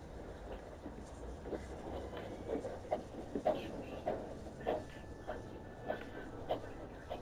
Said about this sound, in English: Alright, your train's gonna come soon.